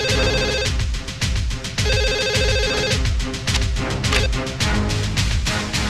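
A telephone rings loudly in repeated electronic bursts with short gaps between them, over a pulsing, thumping background beat.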